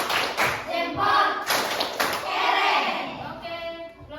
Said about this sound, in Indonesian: beri tepuk jempol untuk kelompok 1